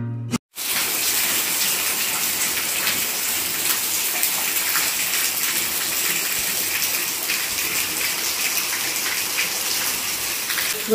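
Heavy monsoon rain pours down in Rajkot, a dense, continuous hiss and gush that stays loud and steady from start to end after a brief opening noise, with no one speaking.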